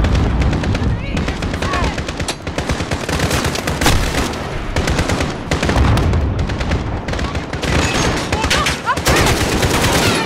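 Rapid bursts of automatic gunfire rattle almost nonstop through a firefight in Call of Duty: Modern Warfare (2019), loud and close, with occasional heavier booms and players talking over the shooting.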